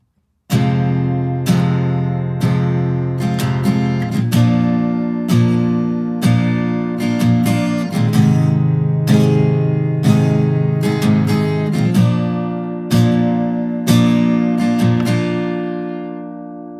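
Acoustic guitar strumming a chord progression, about a dozen steady ringing strums each decaying before the next, clear and close with no voice over it.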